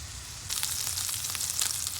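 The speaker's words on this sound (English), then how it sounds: "And now I'm putting in one of the burgers that I just made in here. And we're gonna fry it on both sides." Homemade burger patty, made wide and thin, sizzling steadily in a frying pan, a close, continuous crackling fry with no talking.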